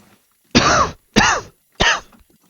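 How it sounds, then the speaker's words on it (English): Three loud, harsh coughs from one person, close by, each lasting under half a second and spaced evenly with short silences between, during a survival game playthrough. "Just had to cough."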